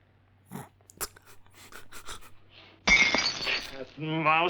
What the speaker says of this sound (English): Even that glass throw was poorly acted.